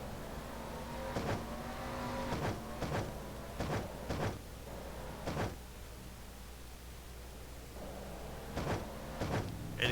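Race cars tear past in a racing video game, several quick engine whooshes bunched nose to tail, each rising and fading fast, with a lower engine drone continuing between passes.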